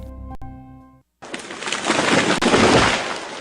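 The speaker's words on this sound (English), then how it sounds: "That was the sound of a tree falling." Tree falling as a sound effect: a loud, broad crashing rush of breaking branches and leaves that swells and sustains for a couple of seconds, following a brief tonal musical snippet and a short pause.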